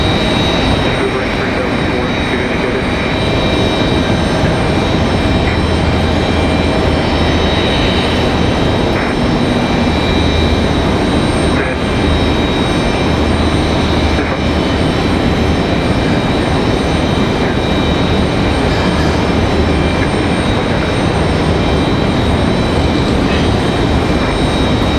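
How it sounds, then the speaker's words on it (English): A CRJ regional jet taxis out for departure at Raleigh-Durham, its engines a loud constant whine and rumble, steady throughout with a high tonal edge and no clear voices. "So that CRJ heads out again."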